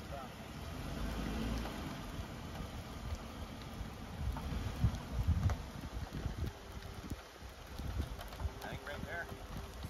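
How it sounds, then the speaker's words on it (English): Heavy rain pours steadily over a truck campsite in high winds, a dense continuous hiss with heavier gusting patches and a low rumble, with people talking intermittently underneath. "It's the rain's coming down pretty good."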